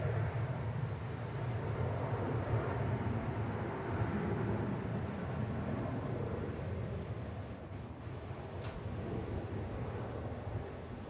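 An American Airlines jet taking off at DFW Airport, a broad, steady roar heard from a distance with some wind buffeting on the microphone, the sound holding level and fading slightly toward the end.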